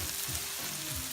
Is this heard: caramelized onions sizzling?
yes